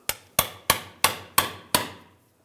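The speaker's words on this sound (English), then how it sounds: "using a pry bar, I'm just going to give it a tap with a hammer" Six sharp metallic hammer taps strike a pry bar wedged under the rear axle cover of a Ram 1500, evenly spaced and close, each ringing briefly before the next, with no talking.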